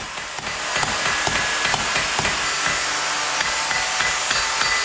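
Repeated blacksmith hammer blows forging a dull-red-hot steel rod into an arrowhead ring out in a steady rhythm, sharp clanging strikes of steel on steel, close and loud with a bright metallic ring.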